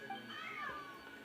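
A cat meows in the video game Genshin Impact, a single short, faint mew over a soft background bed.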